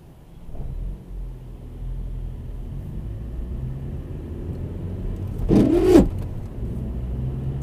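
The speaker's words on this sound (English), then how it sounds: "There's another rushed gear change." A car on a Northampton driving test route rumbles at a low steady idle-like drone, then briefly swells with a short revving surge during a rushed gear change before settling back to the hum.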